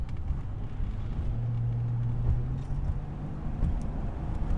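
Chevrolet Trailblazer engine idling with its stock air filter, a steady, fairly quiet low rumble heard from inside the vehicle, with a faint droning tone partway through and no talking.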